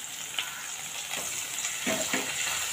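Finely chopped onion and curry leaves frying in hot oil in a pan for Maharashtrian shev bhaji, a steady soft sizzle with a few stirring scrapes, close and moderately quiet, no talking.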